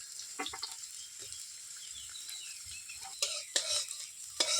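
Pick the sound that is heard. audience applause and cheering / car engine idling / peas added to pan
peas added to pan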